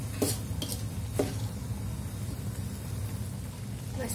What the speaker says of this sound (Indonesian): Aku masukin bumbu-bumbunya sama lengkuasnya.